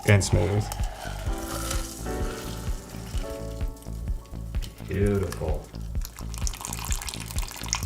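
Cinnamon tequila pours and trickles through a fine mesh strainer, a wet splashing hiss over background music, with a single word spoken.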